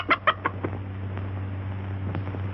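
An agitated rooster clucks in a few sharp, loud bursts at the start, followed by scattered softer clucks over a steady low hum, with no speech.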